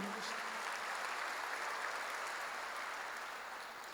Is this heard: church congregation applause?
yes